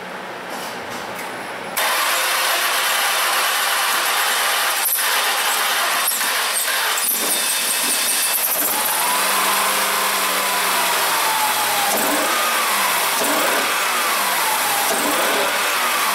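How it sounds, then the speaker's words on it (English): A Ford Escape engine cranks repeatedly without starting, a steady loud whirring starter drone running for most of the stretch with some uneven surges and no speech over it. "I'll go crank it."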